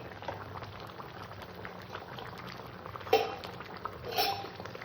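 A pot of oats khichuri bubbles softly on the stove, a low, steady simmer broken by a couple of brief clinks of a spoon against the pot.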